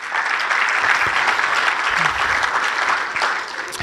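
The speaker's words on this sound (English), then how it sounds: "Let's give him a round of applause for that." An audience at a Pickleball Hall of Fame induction ceremony claps in sustained, dense applause that holds steady throughout, fading slightly at the end.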